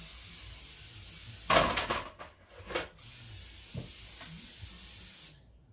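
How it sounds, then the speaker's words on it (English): Several short hissing bursts of aerosol cooking spray onto baking pans, irregularly spaced, over a quiet background hiss that cuts out at the end. "I'm going to spray my pans to get ready"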